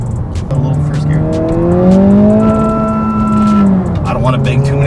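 A car pulls away in first gear, its engine note climbing steadily in pitch for several seconds before easing off, close and fairly loud, with harmonics rising smoothly throughout.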